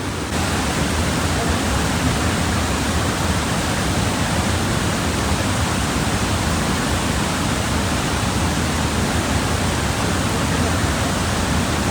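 Torrential floodwater roars through the Tirthan river valley in Kullu, Himachal Pradesh, a loud, dense, unbroken rush of churning water filling the whole scene near and steady, with no pauses.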